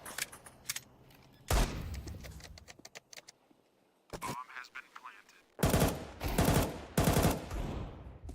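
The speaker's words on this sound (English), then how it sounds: "A lot of pistols here, relatively quick." Pistol fire crackles in a Counter-Strike 2 esports match, with scattered quick shots followed later by dense rapid bursts, fairly quiet and broken by gaps.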